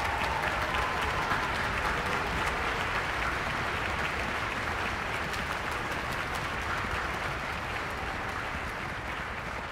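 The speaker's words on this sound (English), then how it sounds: "please make a round of applause for our retirees" A large concert audience at a high school music festival gives sustained, dense applause for retired music teachers, a continuous roar of many hands clapping that holds steady and eases slightly toward the end.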